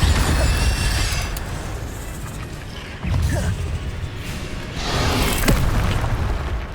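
Incendio fire spell cast repeatedly in Hogwarts Legacy, producing loud whooshing bursts of flame with booming impacts at roughly three and five seconds over a dense rushing background.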